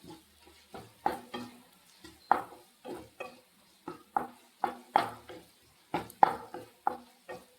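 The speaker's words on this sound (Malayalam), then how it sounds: "ഉള്ളിയൊക്കെ വാടിക്കൊണ്ടിരിക്കുകയാണ് കുറച്ചും കൂടെ ഒന്ന് വാടിയിട്ട് നമുക്ക് പൊടികളൊക്കെ ചേർക്കാം" Onions frying in a pan for a Kerala egg and pappadam curry, stirred with a spoon in steady, rhythmic scrapes over a soft, continuous sizzle. No one speaks.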